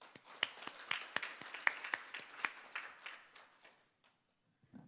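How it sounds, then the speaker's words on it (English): Polite audience applause for a vice minister at a Seoul forum, a modest scattering of distinct claps that thins out and stops, leaving near silence. "Please give her a warm round of applause."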